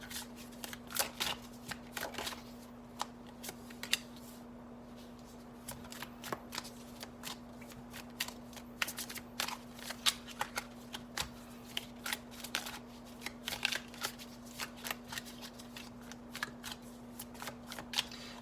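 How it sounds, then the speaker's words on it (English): A Crystal Visions Tarot card deck being shuffled close up, with a long run of quick, crisp riffling snaps and soft card slaps over a low steady hum and no speech. "So the deck that I'm using this week is the Crystal Visions Tarot."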